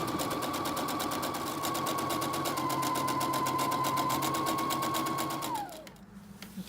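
A sewing machine runs steadily while stitching a side seam in fabric, a continuous rapid whirring needle rhythm that holds for about five seconds, then winds down and stops.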